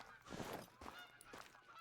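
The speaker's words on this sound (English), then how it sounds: "I think I hear some Canada geese." Canada geese honking in the hunting game theHunter: Call of the Wild on the Revontuli Coast, a few faint, distant calls rising over a quiet outdoor ambience with no talk.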